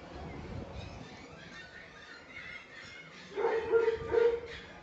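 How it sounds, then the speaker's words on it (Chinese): Dogs of mixed breeds, including golden retrievers, teddies, a corgi and a Dogo Argentino, at a kennel shipping area with a big fan running. Faint yips and barks come in a short cluster near the end over steady background noise and distant voices. "看看这边好多狗狗"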